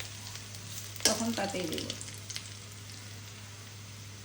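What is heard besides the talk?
chopped onion frying in hot oil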